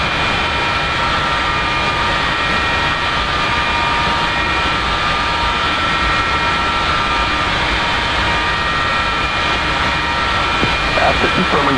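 Steady jet engine roar of an F-4E running on the ground during a cold start in the DCS flight simulator, a loud continuous whine with a constant low rumble that holds throughout.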